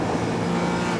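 A Porsche 911 Cup race car at full throttle on the Nordschleife, a loud, dense, steady engine howl rich in harmonics, close and alone for a brief moment.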